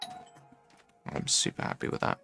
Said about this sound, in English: That was my doorbell, not yours